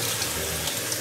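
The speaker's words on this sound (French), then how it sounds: "Je vais continuer toujours à laver les fumba." Water runs steadily from a tap while fumbua leaves are rinsed under it, with light splashing over the continuous flow.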